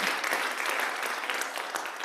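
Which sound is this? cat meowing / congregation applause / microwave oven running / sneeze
congregation applause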